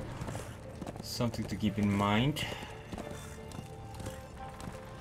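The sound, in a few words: horse hooves galloping in video game Darksiders 2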